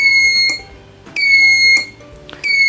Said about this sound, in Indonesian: maka akan menampilkan gambar 3 dan LED serta buzzer akan hidup dan mati selama 600 milisecond.